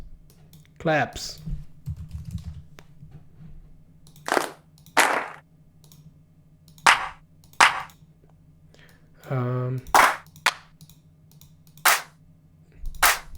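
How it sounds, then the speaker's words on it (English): Clap percussion samples for a synth track sound as sharp, isolated hits spaced irregularly, with quiet gaps between them. A voice speaks briefly twice. "All right, some claps."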